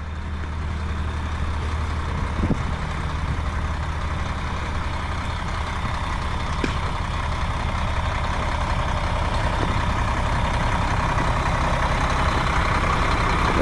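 A Mack truck engine runs steadily at idle, a continuous loud rumble with a broad hiss, the truck having been smoking and blowing antifreeze; no one talks.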